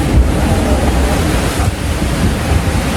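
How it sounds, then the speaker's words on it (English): Strong wind of 25-plus knots buffets a sailboat on a rough, rolling sea between Bimini and Fort Pierce, a loud roar of gusts and breaking water with heavy low rumbling wind noise on the microphone, no voices. "we've had some 25 plus knot winds. The sea has been extremely rolly and rough"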